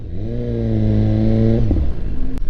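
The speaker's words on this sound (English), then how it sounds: "Still riding the S1000RR, man." A BMW S1000RR motorcycle on a winter night ride, its engine droning steadily and loudly up close before the pitch drops off and settles into a lower rumble, no voices.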